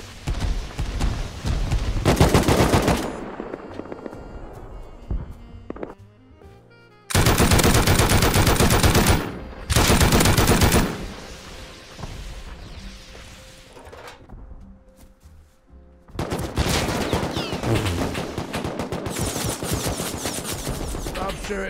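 Automated turrets in a modded Rust server fire loud bursts of rapid gunfire in several separate volleys, with quieter gaps between them.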